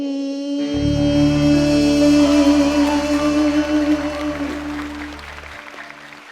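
Audience applause at a live singing show on Cambodian Idol, a broad wash of clapping that swells in after a sustained musical chord and then slowly thins out, loud and close.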